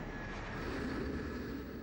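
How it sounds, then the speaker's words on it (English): An airliner touches down at New York's Kennedy Airport in 1985, giving a steady, loud broadband engine roar with a faint whine running above it and no talking. "As Ali Mohamed's plane touches down at Kennedy Airport"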